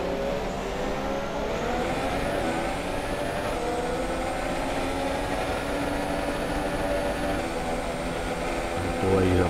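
An F1 race car engine from the F1 2017 game drones steadily and loudly on a formation lap in Bahrain, its pitch holding nearly constant with slight shifts and a brief rev at the end.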